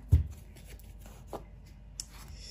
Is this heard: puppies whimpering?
no